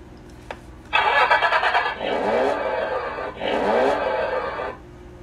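Electric motors on a children's ride-on toy car whir loudly up close, running on a new battery in two sustained bursts with a short pause between them, a buzzy mechanical drone that rises in pitch.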